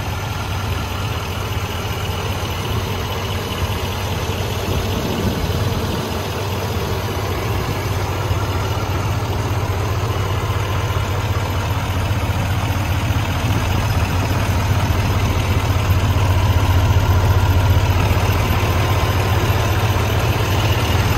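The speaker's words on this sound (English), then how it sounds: "I'll give you some shots of the engine here" The Duramax diesel engine of a 2020 Chevy Silverado 2500HD Crew Cab 4x4 idles close by with a steady, loud, low rumbling clatter that stays even and unbroken throughout, with no talking.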